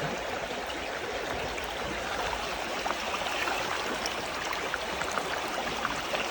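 Water rushes steadily down a gold-prospecting sluice, washing fine material and black sand along in a continuous close splashing flow with no talk.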